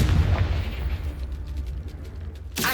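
A Confringo fire spell exploding in the Hogwarts Legacy video game, a loud booming blast that rumbles and decays over about two seconds, followed by a sharp burst at the end.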